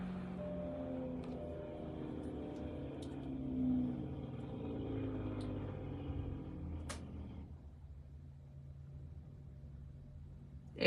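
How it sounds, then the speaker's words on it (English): A semi truck on a nearby highway rumbles past with its Jake brake engaged, a steady, loud, low drone that fades away after about seven seconds into quieter background hum. "That was a semi going by. They're not supposed to be using their Jake brakes that close to town."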